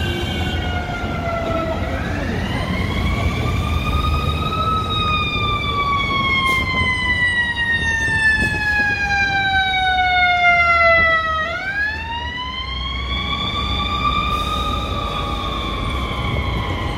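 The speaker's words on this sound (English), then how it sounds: "And then we got an ambulance coming." An ambulance siren wails steadily and loudly in downtown Chicago, its pitch sweeping slowly up and down in long cycles, with traffic rumble underneath.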